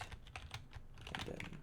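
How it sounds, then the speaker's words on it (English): Python code is typed on a computer keyboard, a quick, close burst of uneven key clicks over about two seconds, with no talking. "we type in def underscore underscore init"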